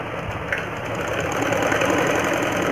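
A sewing machine runs a straight seam on capri pants, giving a steady mechanical whirr and knock that grows slightly louder and carries on without pause, with no talking.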